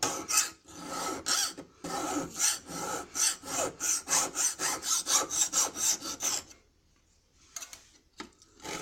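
Hand file rasping back and forth across a steel knife blade, a steady run of rhythmic strokes close up, then a brief pause before a few more strokes.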